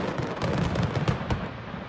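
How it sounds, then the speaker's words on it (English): Daytime fireworks go off in a continuous dense crackle and rumble, with a few sharper pops standing out from a steady low roar that carries on without pause. "That's either an incredible fireworks display"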